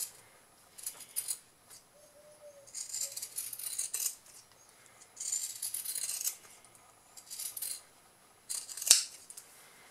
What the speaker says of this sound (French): à l'aide de mes ciseaux cranteurs, je vais faire le tour et cranter